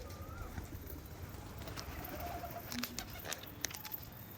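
Domestic pigeons cooing around a house rooftop, soft low coos and a few brief chirps scattered over a steady faint outdoor background, no talking.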